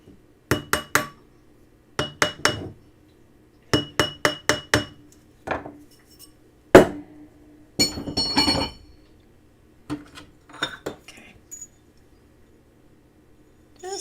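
A metal box clasp is tapped round on a jeweller's mandrel, with sharp bright clinks in quick clusters of two to four strikes separated by short pauses, close and clear with no talk.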